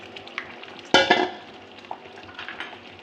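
Eggs hit hot oil already seasoned with five-spice and lentils, cooking with taro. A sudden loud sizzle bursts out, then settles into a steady, softer crackle of frying with faint clinks of pan and utensil.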